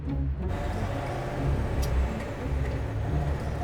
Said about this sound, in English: Driving around the city in a garbage truck turned out to be incredible!